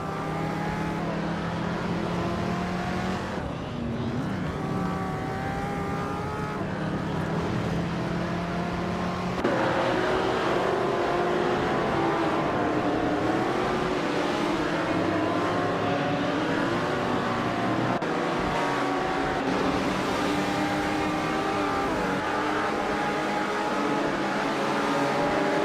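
Racing cars roar in a video game race, with engines droning and shifting pitch continuously as cars rev and pass, loud and steady throughout.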